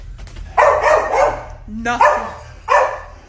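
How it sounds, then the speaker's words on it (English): Dogs bark inside a house, three or four loud, close, sharp barks spaced a second or so apart, with a person talking over them. "Dogs barking and everything."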